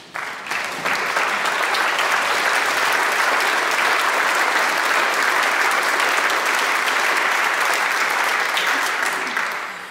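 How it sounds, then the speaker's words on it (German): An audience claps steadily and warmly for about ten seconds at a Bach cantata workshop, a dense, even wash of applause that fades out at the end with no voices over it. "Einen herzlichen Applaus."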